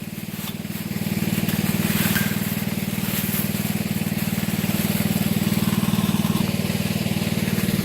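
A small 4 horsepower go-kart engine runs steadily close by, a loud continuous low throbbing putter that swells slightly after the first second and holds an even rhythm throughout.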